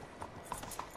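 Horse hooves clip-clop in the Red Dead Online video game as a rider moves along, three soft, evenly spaced hoof strikes over a quiet background, fairly faint.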